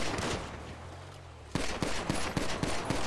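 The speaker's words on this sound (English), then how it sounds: "It's just fireworks, man!" Fireworks going off in a video game, a rapid string of sharp crackling pops and bangs that starts after a rumbling lull and repeats in quick irregular bursts, loud and close, with no speech.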